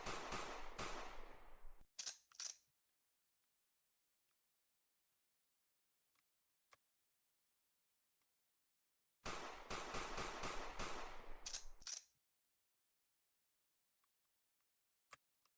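Gunfire from the player's second weapon in a small indie video game: two loud bursts of rapid shots, each a few seconds long, separated by near silence with a few isolated clicks and pops.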